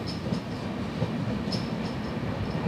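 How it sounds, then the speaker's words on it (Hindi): A ballast freight train hauled by a WDG4 diesel locomotive passes on a newly doubled rail line, a continuous heavy rumble with rhythmic wheel clatter and faint high squeals, close and loud. "सामने न्यू लाइन पर एक फ्रेट ट्रेन भी है,"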